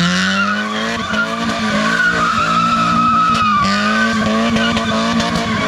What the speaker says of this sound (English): So he's gonna go and try to spin it around here.